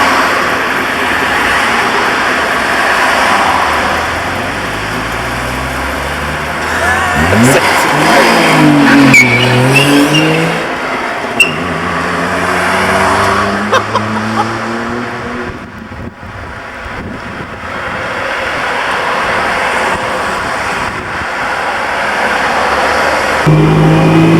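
A 1957 DKW 3=6 sedan with its two-stroke engine driving through Hamburg streets, revving and rising in pitch through gear changes, loud and close from inside the cabin, with occasional rattles and passing traffic.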